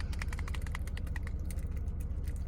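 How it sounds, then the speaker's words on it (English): A small stim toy ball is clicked repeatedly in quick, uneven bursts. The sharp, close clicks ride over a steady low background hum, and nobody speaks. "Same with like clicking the ball. I don't like rolling it, but I like clicking it."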